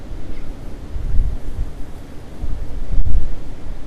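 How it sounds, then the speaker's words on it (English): Gusting wind buffets the microphone beside a Fenland drain, a steady low rumble swelling in stronger surges, no voices. "The wind's gusting"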